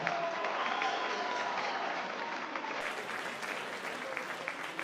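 A boxing arena crowd applauds after a WBC USA heavyweight title fight, with dense, continuous clapping and scattered cheers that hold steady and fairly loud throughout.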